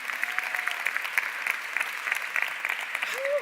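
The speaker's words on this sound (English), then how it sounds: "Let's give a round of applause for Sid." An audience gives a speaker a round of applause at a business talk, steady dense clapping that goes on for the whole stretch, with a faint voice near the end.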